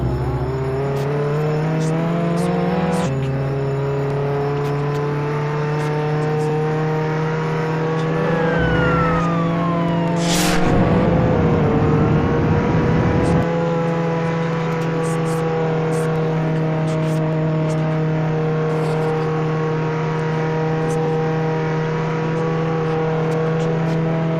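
Engine of a car driven in a video game, a steady droning hum with pitch shifts as it revs, plus a rising siren-like sweep and a short burst of crashing noise midway; no talking.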